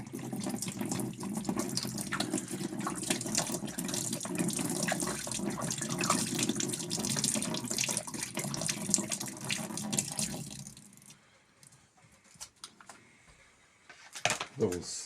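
Water runs steadily into a homemade parts washer for about eleven seconds, a loud continuous splashing pour that then stops, leaving quiet with a few small handling knocks.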